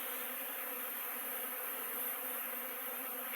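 Buckfast honeybees buzz in a dense, steady swarm on a cleansing flight around apiary hives between cold and rainy spells, a continuous close drone with no voices.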